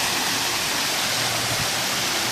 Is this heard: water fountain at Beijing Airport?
yes